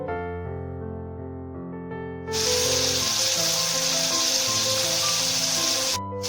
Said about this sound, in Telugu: ఆనియన్ ట్రాన్స్పరెంట్ కలర్ వచ్చేదాకా మనం బాయిల్ చేసుకోవాలి